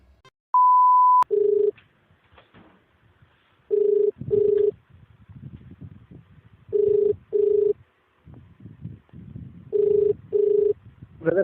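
An outgoing telephone call opens with a short steady tone, then a ringback tone sounds in repeated double pulses, four pairs separated by pauses with faint background noise between them.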